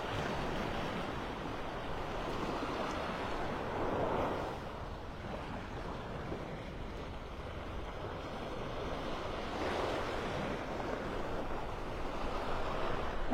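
Early-morning ocean surf at a beach, a broad continuous wash of breaking waves with slow swells, steady and moderately distant, mixed with some wind, no talking.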